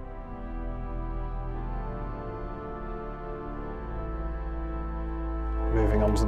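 Swell strings stop on the St Edmundsbury Cathedral pipe organ, a soft sustained chord of thin, shimmering tones held steadily in a resonant space, swelling slightly louder near the end.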